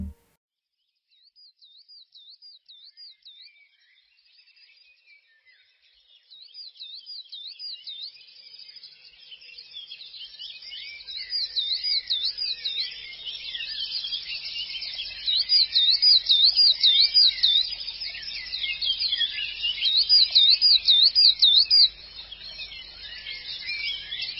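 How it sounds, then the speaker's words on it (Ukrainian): Small birds chirp and trill in repeated high warbling phrases, starting faint and sparse, then growing into a busier, louder chorus. "Так, правильно, це пташки."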